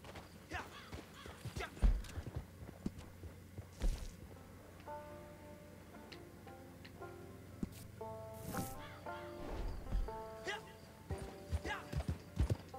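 Hoofbeats from a ridden horse in Red Dead Online come in uneven bursts among game sounds and a short melodic musical cue, with a faint voice talking at times.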